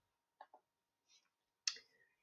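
A few computer mouse clicks on a download button: a quick pair of light taps, a soft tick, then one sharper click, each isolated against near silence.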